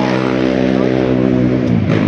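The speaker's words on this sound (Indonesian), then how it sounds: "itu motor bobokannya ngaco" A motorcycle with a modified, loud exhaust passes close by, producing a strong, steady droning engine roar with a rough, buzzy edge that holds for about two seconds.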